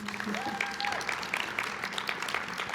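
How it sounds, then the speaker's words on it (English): A crowd applauding steadily, with dense clapping throughout, a faint whistle-like tone rising early, and murmuring under it. "can we give all of those people a round of applause, please?"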